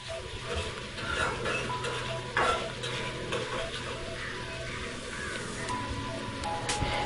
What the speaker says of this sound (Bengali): এখন এটাকেও ভালোভাবে ভুনে নেব।